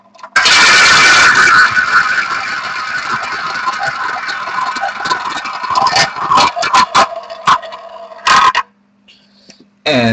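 A roulette wheel spun during a trading card box break, giving a loud whirring, rattling spin that slows into irregular clicks and ticks before stopping near the end, close up with no talking.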